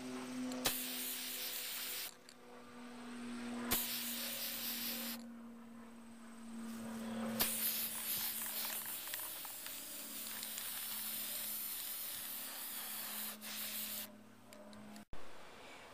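Short bursts of spray paint hiss from a can as a base coat goes onto a Nerf blaster in light layered passes, several separate sprays starting and stopping with a faint steady hum behind them.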